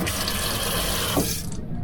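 Water runs steadily into a boat's galley sink that is not draining because the seacock is closed, making a loud, continuous splashing rush close by that tapers off at the end.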